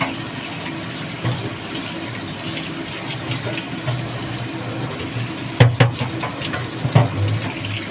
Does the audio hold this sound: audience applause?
no